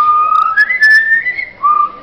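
A mimic bird at a zoo whistles a tune, with clear, tonal, melodic whistled notes that rise and fall across roughly two seconds, sounding close and loud with a brief pause before a final phrase.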